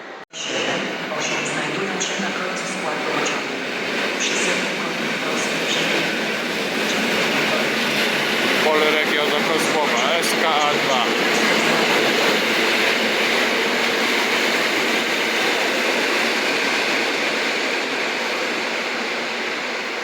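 An EU07 electric locomotive train rumbles steadily nearby at Kraków Główny station with broadband rail noise and faint clatter, while voices sound intermittently under the din.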